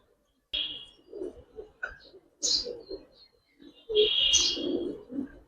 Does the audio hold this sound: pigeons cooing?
yes